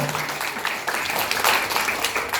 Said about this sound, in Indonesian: Tepuk tangan Bapak Ibu, luar biasa.